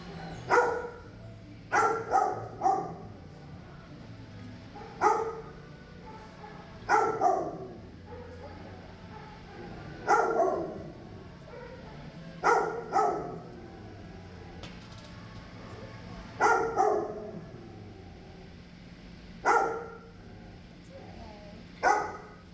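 Dogs bark in scattered, echoing bursts in a shelter kennel, several close together, over a steady low hum in the enclosed space.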